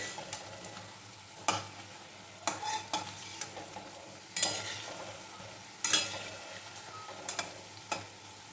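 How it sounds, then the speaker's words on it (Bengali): Jalebi fry in oil on low heat with a soft, steady sizzle, broken by a series of brief scraping stirs spaced roughly a second apart. "এইভাবে আজ কমিয়ে কমিয়ে হালকা আজে ভাজতে হবে যাতে একদম ভেতর থেকে ভালো করে ভাজা হয়"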